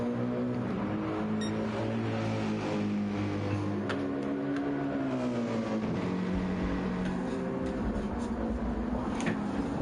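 Race cars including a Lexus at Laguna Seca, engines droning steadily, pitch rising and falling as they shift and pass, loud and continuous.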